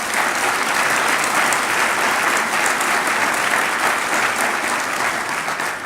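An audience at a public forum on America's global leadership in Georgia gives a loud, sustained round of applause, dense even clapping with no speech over it.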